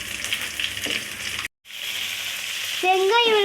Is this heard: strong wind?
no